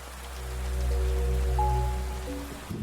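Steady rain falls at dusk, a continuous soft patter over a deep low rumble, with faint sustained tones running alongside and no voices.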